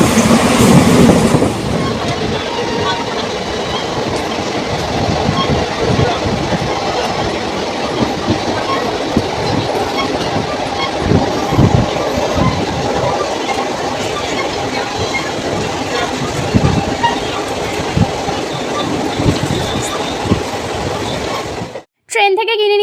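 A passenger train travelling from Tarapith to Howrah rumbles along with steady clickety-clack of wheels on rails, a constant loud carriage roar with faint voices inside, cutting off abruptly at the end.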